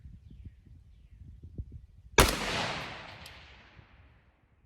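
A single sharp rifle shot from 6.5 Grendel ammunition at a long-range shooting session, loud crack with a long fading echo after a stretch of quiet outdoor background.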